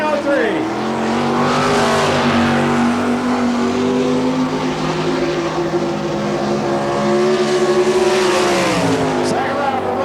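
A race car engine roars on a dirt oval during an NCRA All Stars qualifying lap at Belleville, Kansas, the number 8 car coming out of turn four, loud and sustained with pitch sweeps as it accelerates, under a track announcer's voice.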